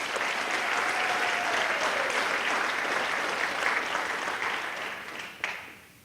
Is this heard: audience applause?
yes